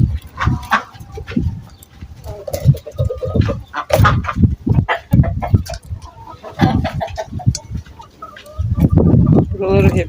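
Chickens cluck and squawk close by, with several birds calling over one another while a person talks among them.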